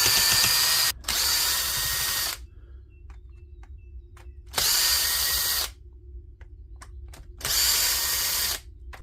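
A power drill backs screws out of a power tool during a repair, giving three loud whirring bursts of about one to two seconds each, separated by quiet gaps filled with faint handling clicks.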